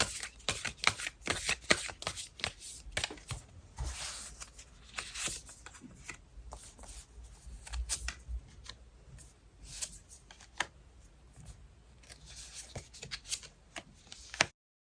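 Tarot cards being shuffled and drawn by hand, a busy run of close, crisp riffling and flicking bursts with short pauses between, no talking.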